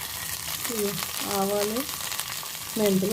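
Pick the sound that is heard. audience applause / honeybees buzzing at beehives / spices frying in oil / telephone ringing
spices frying in oil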